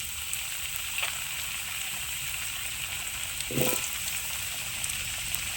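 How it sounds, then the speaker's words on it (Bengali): Potatoes dropped into hot oil in a kadai give a steady, faint sizzle with a couple of brief louder crackles, no voices over it. "এবার কড়াইতে আলুগুলো দিয়ে দিচ্ছি"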